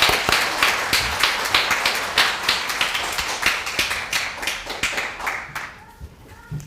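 A church congregation claps together in a steady burst of applause, dense overlapping hand claps filling the room, tapering and thinning out toward the end.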